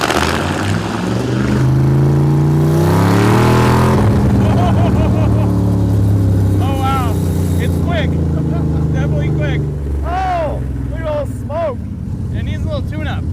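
A 1985 Chevrolet C4 Corvette-engined kart revs hard during burnouts, its loud engine note climbing and falling through several sweeps, with people talking over it.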